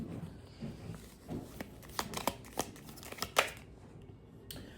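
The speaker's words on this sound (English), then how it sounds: "Let's pull some oracle cards for you." Oracle cards being shuffled and pulled at close range, with soft rustling giving way to a series of crisp card snaps and slaps, the sharpest near the end, with no talking.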